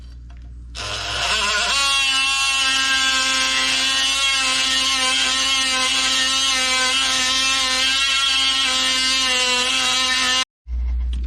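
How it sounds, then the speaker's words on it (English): Loud, steady buzzing drone of a Sawzall reciprocating saw cutting into an AW4 transmission, running continuously close by for about ten seconds before stopping abruptly. "And then I'm gonna use the Sawzall from there on out."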